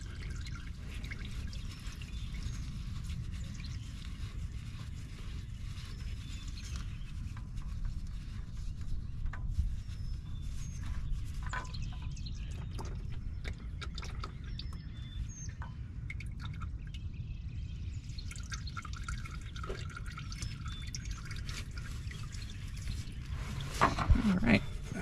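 Motor oil drains from a removed car oil filter in a steady, faint trickle and drip, a continuous low wash with occasional small drips and a slight clatter near the end.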